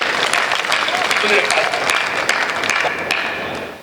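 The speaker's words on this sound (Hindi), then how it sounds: "आप एक बार दोनों हाथ करके जोरदार तालियां बजाइए मुझे" A large audience at a Hindi-Urdu poetry gathering breaks into loud, dense applause. The clapping holds steady for several seconds and then begins to fade, with voices mixed in underneath.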